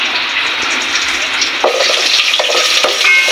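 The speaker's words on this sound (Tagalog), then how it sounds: "Yan, gisa natin yung karne." Garlic, onion and pork sauté in a hot pan with a loud, steady sizzle and occasional scraping stir strokes, heard up close with no voices.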